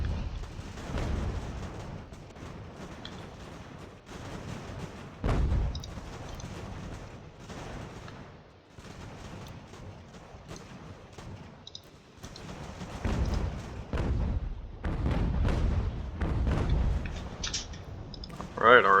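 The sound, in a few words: artillery firing in video game Ultimate General American Revolution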